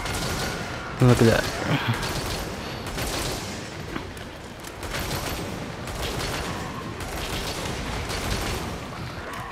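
Light bowgun fire in the Monster Hunter Rise video game, a burst of rapid sharp shots followed by continuous dense in-game noise of impacts and effects, with someone talking over it.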